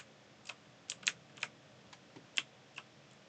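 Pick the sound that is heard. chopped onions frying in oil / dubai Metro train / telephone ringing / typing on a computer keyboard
typing on a computer keyboard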